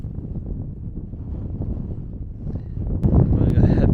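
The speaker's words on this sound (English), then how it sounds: "That's how windy it is." Strong wind on a hilltop in the Forest of Bowland buffets the microphone in a continuous low roar that gusts harder near the end, and a voice is partly buried under it.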